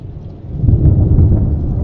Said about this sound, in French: il y a un système orageux qui est en train de s'organiser là